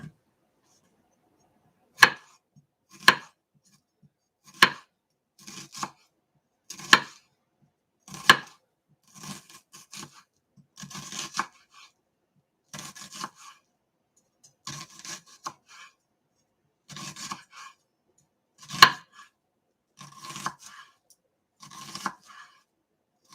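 Knife chopping peeled onions on a cutting board while burgers are prepared, giving a run of sharp, close taps, some spaced out and some quick, with quieter scraping and rustling between them.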